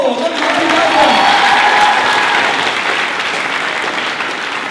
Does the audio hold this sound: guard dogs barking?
no